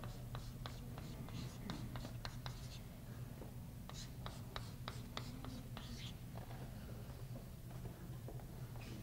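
A marker or chalk writes on a board during a university chemistry lecture. Quiet, quick scratching strokes come in short bursts over a low room hum.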